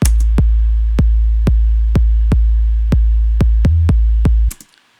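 A gqom beat plays an 808 bass layered with a top kick drum, the deep booming hits landing about a dozen times in a steady punchy rhythm, loud and upfront before cutting off.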